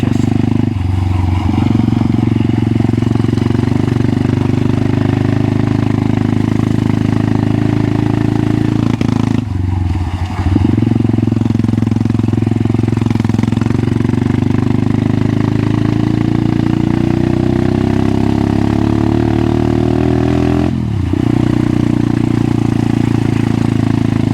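A Crossfire pit bike, CF 140 or 125, idles steadily while warming up in snowy weather, its engine chugging loud and close with a continuous mid-pitched rumble. Two brief dips break the drone.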